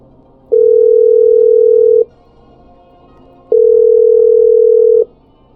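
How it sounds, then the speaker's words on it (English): Telephone dial tone while calling a hospital: two long steady tone bursts, each about one and a half seconds, separated by a pause, loud and clear with no talking. "I'm dialing"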